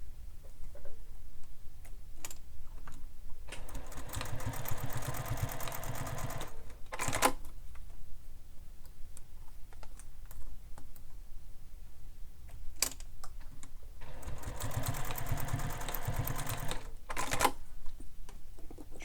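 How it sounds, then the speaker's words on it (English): A sewing machine stitches a bag handle seam in two sustained whirring runs, separated by quiet stretches with small clicks and handling taps, fairly faint overall. "sew this again using the seam allowance given in the pattern"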